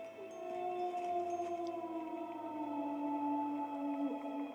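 A long, faint, wavering howl drifts from far off, a sustained tone that slowly bends in pitch over quiet background.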